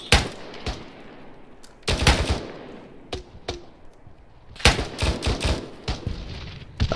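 Gunfire in the Arma 3 military game, firefight on Altis: repeated bursts of automatic weapon fire and single shots, some loud and close, others sharper and more distant, clustered in volleys with short gaps between.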